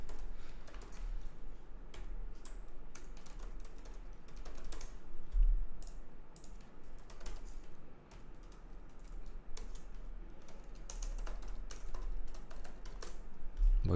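Keys clatter on a computer keyboard in irregular bursts of close, light clicks, typing steadily against a quiet indoor background.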